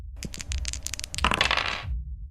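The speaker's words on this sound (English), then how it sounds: "Now it's up to the dice to decide who gets the loot amulet." Dice clatter in a dungeon-crawling fantasy video game as a loot roll plays out, several short sharp clicks followed by a louder rattling tumble, close and alone with no voices.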